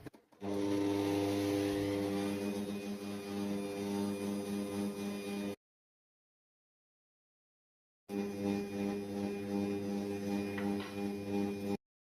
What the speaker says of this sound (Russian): Взбиваю белки.